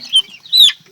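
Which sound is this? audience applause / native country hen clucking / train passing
native country hen clucking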